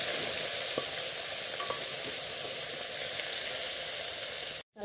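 Brinjal and potato curry masala frying in a pressure cooker while being stirred, a steady close sizzle with faint scraping that runs throughout and cuts off abruptly at the end.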